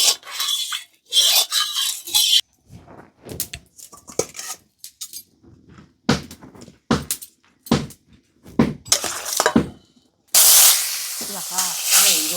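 Pointed gourd and potato fry in hot oil in a well-heated wok, with intermittent bursts of hissing sizzle, utensil clatter and a loud, sustained spitting sizzle at the end, interspersed with voices talking.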